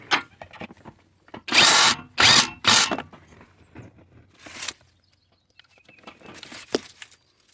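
A power drill tightens fasteners on a Nissan washer fluid reservoir. The close, loud whirring comes in short bursts of one to two seconds, separated by quieter clicks and handling noises.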